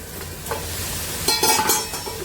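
Food frying in a pan with salt and turmeric is stirred, giving a steady soft sizzle and a burst of louder scraping, clattering stirs toward the end, with no voices.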